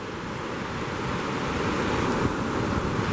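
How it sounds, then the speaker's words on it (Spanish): Los Castaños waterfall on the Olivares river pours in a steady, dense rushing roar, heard up close and continuous, with no voices. "Esta es la cascada Los Castaños."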